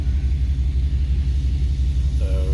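A pickup truck's engine rumbles deep and steady from inside the cab while driving, heavy low throb with a faint higher tone creeping in near the end.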